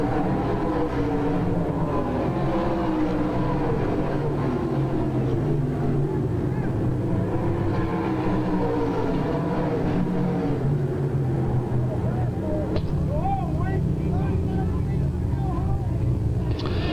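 Late model stock cars race at Cherokee Speedway, a dense, continuous engine roar that swells and fades as the pack circles the track, with a public-address announcer talking over it.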